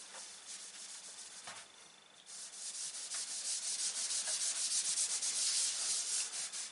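A sponge rubs finish generously across a recycled oak tabletop sanded to 320 grit, a steady swishing scrub in close, repeated strokes that grow louder and more continuous partway through.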